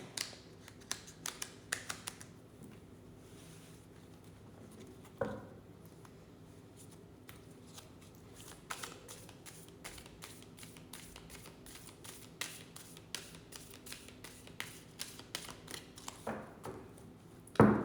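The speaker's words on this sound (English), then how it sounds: "Let's shuffle a little bit and clear the deck again." Soft riffling and tapping of a deck of cards being shuffled, a steady run of quick flicks and light slaps, close and quiet.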